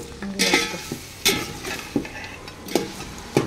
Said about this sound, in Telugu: ఈ మొత్తాన్ని ఒకసారి కలుపుకుందాం.